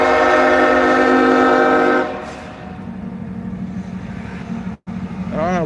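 A train rolls past with its horn blaring loudly in long, steady harmonic blasts for about two seconds, then a rumbling, clattering passage continues close by, with a brief dropout near the end.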